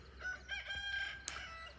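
A rooster gives a single clear crow at moderate distance, the call rising and holding before a brief sharp accent near the end, with no talking over it.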